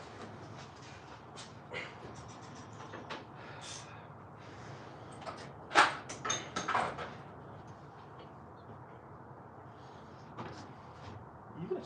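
Kitchen or workshop drawers sliding and rattling open and shut during a search for Allen keys, a run of scraping clunks with a louder burst of knocks near the middle, over low room noise.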